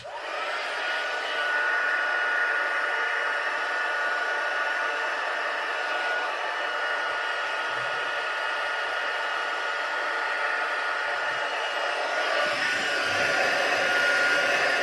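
Steady, loud whooshing airflow of a heat tool setting freshly stamped ink on cardstock for card making, running nearly continuously with a slight shift in tone near the end.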